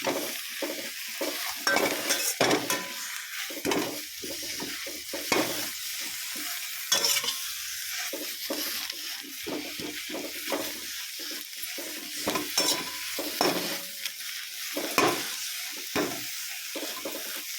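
Thojank leaves frying and being stirred in a pan, with a spoon scraping in repeated rhythmic strokes over a continuous close sizzle, no voices.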